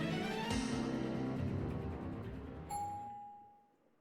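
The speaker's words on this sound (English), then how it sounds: "The gentle chime of the elevator shatters the silence" A clear single elevator chime rings out over a dense, sustained musical backdrop, its bright tone lingering as the background fades away.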